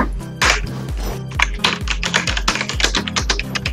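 Fast clicky typing on a mechanical computer keyboard, with quick bursts of bright key strikes over a thumping low beat of game background music, loud and close.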